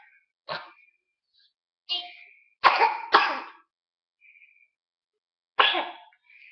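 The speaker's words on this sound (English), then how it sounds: "He's kind of got a little cough, as you can tell." A small child gives several short, sharp coughs and throat-clearing sounds, spaced irregularly with quiet pauses between them.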